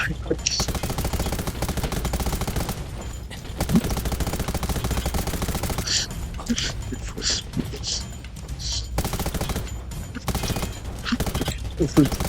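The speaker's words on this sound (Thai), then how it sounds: "ว้าสาวยิงว่ะ" Rapid bursts of gunfire from the video game Undawn crackle repeatedly through the clip, loud and close, with a player's voice talking over parts of it.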